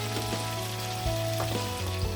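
Eggplant goes into a simmering pork kare-kare sauce, giving a steady close sizzle and bubbling with a low hum and a few soft stirring knocks, and no voices.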